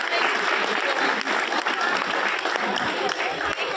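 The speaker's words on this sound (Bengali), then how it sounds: "আমাদের ছোট গুরু এবং বড় গুরু একসাথে জোরে হাততালি" A crowd at a Teachers' Day celebration breaks into loud, dense applause, a continuous close wash of clapping lasting several seconds with no talk over it.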